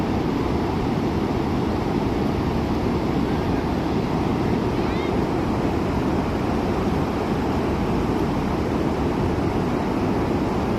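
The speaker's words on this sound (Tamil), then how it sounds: "தண்ணி பாருங்க எவ்வளோ சத்தத்தோடு எவ்வளோ அழகாக விழுகுதுன்னு" Water pouring over the Veerapandi check dam weir on the Mullai Periyar river in flood, a steady, loud, broadband roar with no breaks, close by and unbroken throughout.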